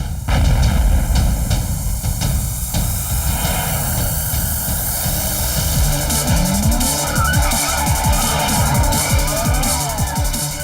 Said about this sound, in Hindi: कीको और सुपर स्पीडो रेस में बिजी हैं।